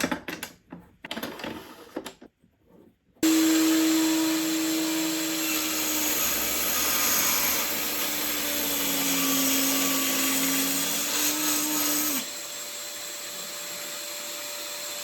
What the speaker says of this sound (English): put the circular saw in the rails and press the button to turn on the laser